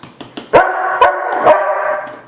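Several close, loud dog barks at roughly half-second intervals, a few short yips between them, with no talking.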